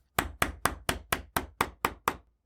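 A chisel is struck nine times in an even rhythm, each a sharp, close knock as it cuts the tang slot of a wooden military rifle stock held in a vise.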